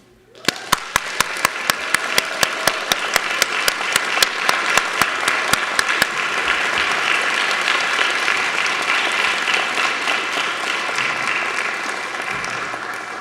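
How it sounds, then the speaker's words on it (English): Council meeting audience applauding a local school team's season and state tournament run: sustained, dense clapping throughout, with a sharp rhythmic clap standing out early over the crowd, then continuing as steady applause without talk. "Please help me now in recognizing and applauding this accomplishment."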